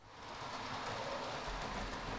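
A model railway 3-car DMU train runs steadily past, giving a continuous soft mechanical whir and rumble with a faint rattle. The sound stays quiet and even, swelling slightly as it continues.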